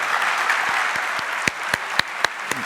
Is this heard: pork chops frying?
no